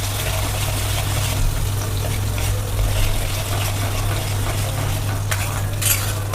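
A chutney and spice mixture for pav bhaji is stirred and sautéed in a hot pan, giving a steady sizzle with scraping and stirring clatter and a couple of sharper utensil knocks near the end.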